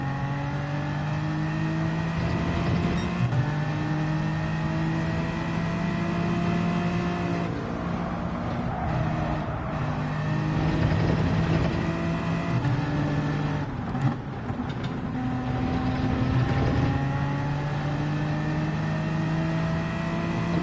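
A race car engine in Gran Turismo 7, racing a Manufacturers Cup round at Watkins Glen, drones steadily and close, its pitch climbing and dropping through gear changes over a long stretch with no talk.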